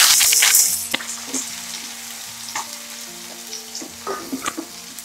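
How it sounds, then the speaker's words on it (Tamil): Hot oil sizzles loudly at first, then settles into sparse popping and crackling as mustard and fenugreek seeds splutter in a pan close by. "கடுகும் வெந்தயமும் நல்லா பொரியணும்."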